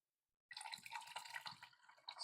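Sparkling water poured over ice and cherry syrup into a rose gold glass cocktail shaker, a close, steady trickle and fizz with some splashing that starts after a brief silence and continues to the end.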